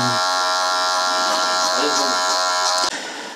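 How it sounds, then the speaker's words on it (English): A Super Taper electric hair clipper buzzes steadily and loudly at close range during a fade haircut, its hum holding constant before dropping abruptly near the end. "The super taper is an entry level clipper, but it does better than most other clippers."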